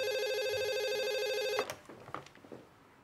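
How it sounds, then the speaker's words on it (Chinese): An electronic telephone rings in a steady tonal burst for about a second and a half, then stops abruptly, followed by soft handling noises and faint room sounds in an office setting. "电话"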